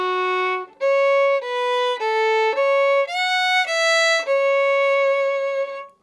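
A string instrument plays a phrase of the tune Farewell To Whalley: about eight clear, sustained notes stepping up and down in a steady rhythm, close and fairly loud with no talking.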